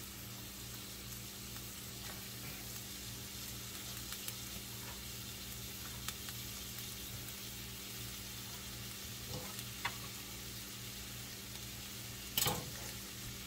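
Chopped celery thrown into a hot pan for oyster stuffing, giving a faint, steady sizzle that runs evenly without talk, with a small clatter near the end.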